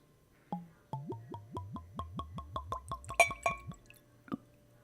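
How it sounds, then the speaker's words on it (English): Liquid glugs out of a bottle in a quick run of about a dozen close, hollow gulps, speeding up before a few splashy gurgles and one last glug. "I'm going to do it near the microphone just so you can all appreciate this weird gluggy noise"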